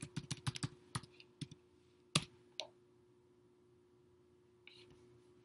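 Quiet clicks of a computer keyboard as a password is typed at a login screen, a quick burst of keystrokes followed by a few isolated taps and a louder final key press, faint and close.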